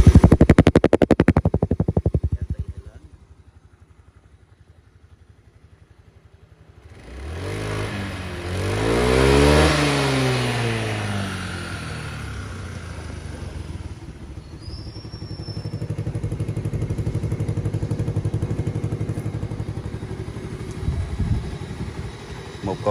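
A Honda PCX 150 scooter ("PC đầu 14") starts right up, then revs in rising and falling swells before settling into a steady idle, close by and fairly loud, with someone talking over parts of it.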